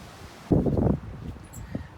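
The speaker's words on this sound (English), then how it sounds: "It's ridiculously windy today, so we'll see if this audio turns out." A sudden low rumbling buffet of strong wind hits the microphone outdoors for about half a second, then fades into lighter gusty thumps.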